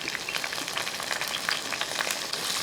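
Green chillies and small shallots fry and are stirred in a pan for mutton curry, giving a busy, close sizzle full of crackles and pops.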